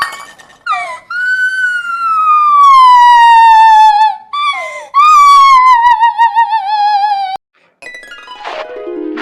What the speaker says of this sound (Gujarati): આપણી સોસાયટીમાં પોલીસની એમ્બ્યુલન્સની ગાડી શું કરે?